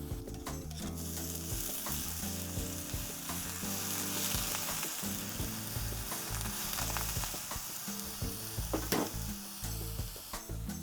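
A portobello mushroom fries in a pan with a dense, continuous sizzle, punctuated by stirring and the clatter of a utensil against the pan, with no talk.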